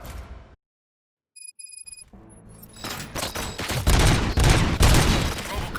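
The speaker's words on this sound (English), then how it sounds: "Gunshots? What's going on?" Rapid bursts of gunfire in the video game Robocop: Rogue City erupt after a brief silence and a few electronic beeps, growing loud and dense like a sustained firefight.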